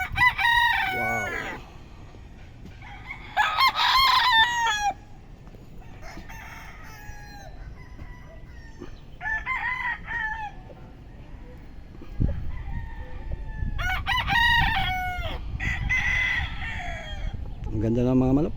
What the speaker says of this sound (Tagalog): Ang ganda ng mga manok.